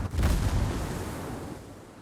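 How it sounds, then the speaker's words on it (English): A booming salvo from the destroyer Farragut in World of Warships hits hard at the start, then rumbles and decays over about two seconds with no talking. "Now the Farragut is shooting at me."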